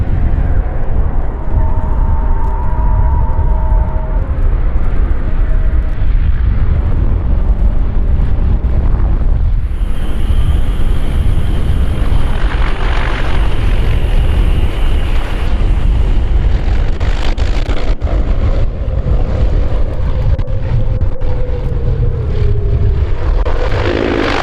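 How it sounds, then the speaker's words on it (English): A C-123 airplane landing in a crosswind produces a loud, continuous engine roar heavily buffeted by wind noise, rising and shifting in pitch as it passes close by. "This C-123 was landing in a crosswind when its right wing dove toward the ground."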